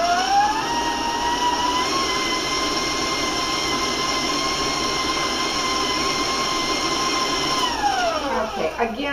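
An electric mixer whirs steadily at high speed while beating eggs and sugar, a loud continuous motor whine that holds level and then drops in pitch near the end.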